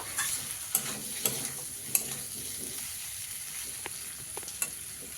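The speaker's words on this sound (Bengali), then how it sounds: "তো সেভাবেই আমি কিন্তু আলুটাকে কষিয়ে নেব" Potatoes sautéed with spices in a wok, a soft low sizzle under a few sharp ticks and scrapes from a spatula against the pan, fairly quiet and with no voices.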